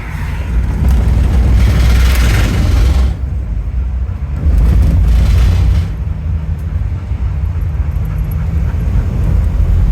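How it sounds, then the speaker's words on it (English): A truck with a flashing light drives past, its loud, low road rumble swelling, dipping and rising again in two broad waves over steady background noise. "It's just a truck with a blinky light."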